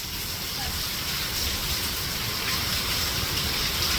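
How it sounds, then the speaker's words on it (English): Heavy rain pours down steadily where outdoor stairs have flooded, a loud, unbroken hiss and rush of water that fills the whole stretch. "This is so much rain."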